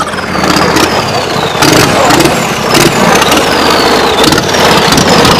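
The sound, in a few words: tractor engine running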